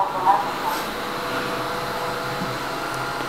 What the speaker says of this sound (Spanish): encender la aspiradora y le damos limpieza automática